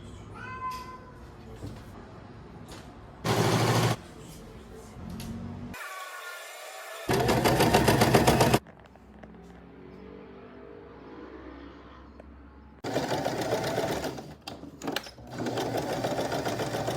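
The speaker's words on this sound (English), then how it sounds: "I'm gonna go and start sewing the top." Sewing machine stitching the top of a summer dress, running in several rapid buzzing bursts of a few seconds each, loud and close, separated by quieter gaps with handling noise and a faint meow-like squeak.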